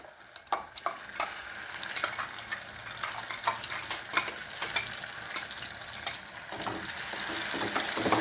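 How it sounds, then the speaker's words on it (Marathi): Ground paste for methi matar malai is stirred and sautéed in oil in a pan, making a dense, constant sizzle with repeated close scraping stirs throughout and no voices. "हे छान हलवून देऊया याला तेल सुटेपर्यंत साईडने तेल सुटेपर्यंत आपण परतून घेणार आहोत"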